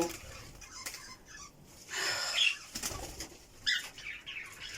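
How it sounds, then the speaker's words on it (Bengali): Pet birds flap their wings in several quick bursts close by, with soft cooing and brief chirps between the wingbeats. "এই যে পাখিগুলো আমি যখনই সেটআপে আসি, এগুলো আমার কাঁধে বসে থাকে"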